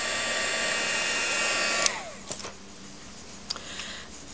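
A hair dryer blows steadily on a collage tag, then switches off and winds down near the midpoint, followed by a few faint clicks and handling taps in the quiet.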